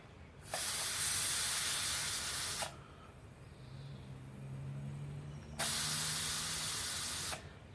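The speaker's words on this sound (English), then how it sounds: "Got the gas bottle hooked up. I'm just going to purge the oxygen out of the top like you would with beer." Gas from a gas bottle purging oxygen out of the top of a fermenter before a closed beer transfer, two loud steady hissing bursts of about two seconds each, separated by a quieter gap, close by.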